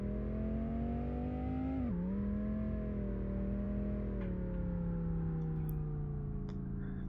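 A Dodge Viper engine in the Rigs of Rods driving game holds a steady, loud droning tone. Its pitch dips sharply once, then eases gradually lower, like a revving engine settling under throttle.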